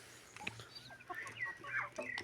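A rooster clucks in short, scattered calls at close range on a farm where ducks are kept, with quiet pauses between the bursts and no talking.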